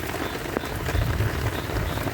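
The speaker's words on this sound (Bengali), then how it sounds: "দেখেন কি পরিমাণ বৃষ্টি হচ্ছে" Heavy rain on a rainy day of village fishing, a steady loud hiss of downpour with low rumbling underneath throughout, and no talking.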